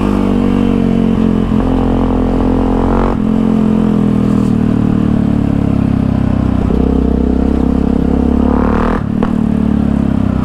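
A Yamaha MT-03 660 motorcycle engine revs loudly and close up, with a continuous throaty drone, surges in pitch and some clatter, and no talking over it.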